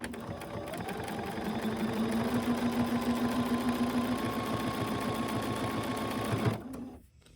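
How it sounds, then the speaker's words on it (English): A sewing machine top-stitches a narrow seam on a fabric mask, running at a fast, even rhythmic hum for several seconds before stopping abruptly. "So I'm going to sew with about 1/8 of an inch seam allowance and do a little top stitching here."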